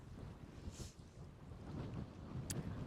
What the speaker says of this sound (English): I have no idea what the wind noise is going to be like because it is really windy.